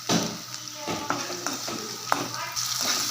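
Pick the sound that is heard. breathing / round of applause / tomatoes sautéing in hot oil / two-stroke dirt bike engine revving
tomatoes sautéing in hot oil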